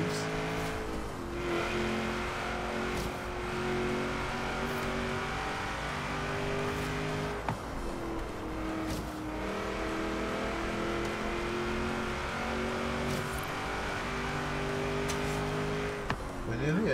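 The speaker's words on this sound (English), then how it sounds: "It would bounce off the rev limit at the top end." A car engine in Forza Horizon 3 revs hard and bounces off the rev limiter, a loud sustained whine with repeated gear-shift drops and brief stutters, while someone talks over it.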